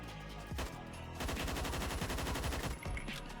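AUG A1 rifle fired in the game Phantom Forces: a few opening shots, then a dense, steady stream of rapid automatic fire, loud and close, breaking off briefly near the end before resuming.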